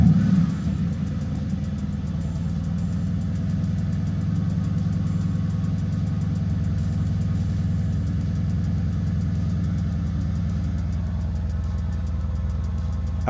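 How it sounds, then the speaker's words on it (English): A car engine idles steadily and close by after a scanner code deletion, a continuous low rumble with an even mechanical hum and no revving, heard alone. "And now I go quiet and invite you to hear this wonderful engine."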